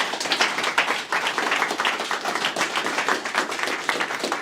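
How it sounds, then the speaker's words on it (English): An audience at a startup pitch event in Glasgow applauds the judges, a dense, steady patter of many hands clapping close and continuous without any talk. "If I could just get a big round of applause for our judges"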